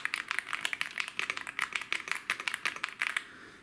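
Rapid clacking keystrokes on a computer keyboard at a home office desk, close and crisp, in an irregular burst of typing that stops near the end.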